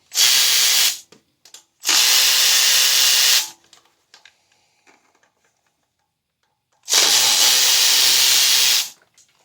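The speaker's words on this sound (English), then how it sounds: "So now we're going to remove 3 more bolts on this front cover here." A pneumatic impact tool or air ratchet removes 10mm bolts from the front cover of a Honda Rancher 420 ATV in three loud, close hissing bursts of about a second or two each, separated by quiet pauses with faint clicks.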